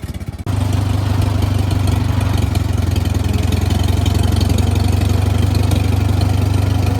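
Farmall tractor engine from an auction lot starts up and settles into a steady, loud, close idle with a low rumbling chug that holds evenly throughout.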